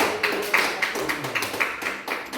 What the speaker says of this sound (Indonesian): Kita tepuk tangan dulu buat.